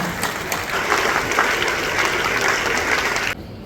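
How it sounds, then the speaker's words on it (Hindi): A crowd at a felicitation ceremony for a Commonwealth Games weightlifting silver medalist gives loud, sustained applause, a thick wash of clapping that holds steady before cutting off abruptly near the end. "एक बार जोरदार तालियों के साथ उनका स्वागत और अभिनंदन।"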